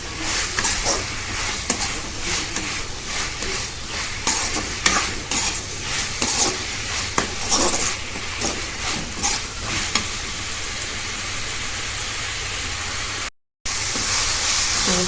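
Ingredients for a prawn gravy sizzle steadily in a hot pan while a spoon stirs and scrapes in repeated strokes, a loud close frying hiss that breaks off briefly near the end.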